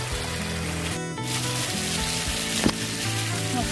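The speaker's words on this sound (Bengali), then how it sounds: "আলুগুলোকে মশলার সাথে ভালো করে মিক্স করে আর একটু আমি ঢাকা দিয়ে" Potatoes and ridge gourd fry in a spiced masala, giving a steady, close sizzle and crackle that runs the whole time beneath a layer of background music.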